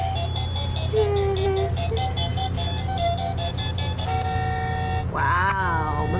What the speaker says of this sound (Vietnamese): bấm kèn bim bim bim bim bim bim